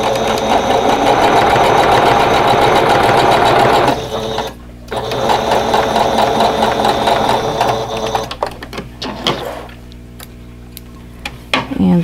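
Sewing machine running steadily as it stitches quilt block pieces, loud and close, with a brief pause midway before it resumes in shorter bursts near the end.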